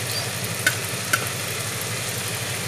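Bean sprouts with shrimp and crabmeat are being stirred in a pan over low, steady sizzling, with two brief utensil clinks against the pan.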